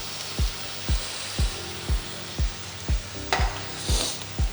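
Tomato mince simmers in a pan with a soft, steady sizzle, while a low thump repeats at an even rhythm about twice a second, like slow stirring, all fairly quiet.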